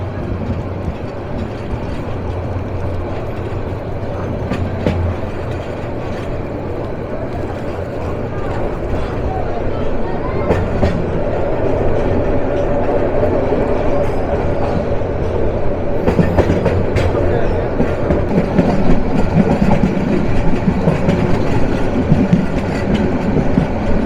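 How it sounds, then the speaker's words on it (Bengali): The Kishoreganj Express intercity train runs on the rails from Dhaka, its rumble and rhythmic clickety-clack building steadily louder. Voices can be heard in the background. "আন্তনগর কিশোরগঞ্জ এক্সপ্রেস যাত্রা শুরু করলো"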